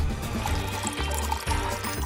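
Water poured into a bowl of worms, a steady splashing pour running about two seconds at close range with no talk over it.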